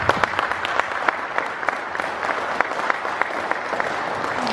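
Steady audience applause fills a hall at a badminton tournament prize distribution ceremony, dense clapping with sharper individual claps standing out, sustained at an even level throughout.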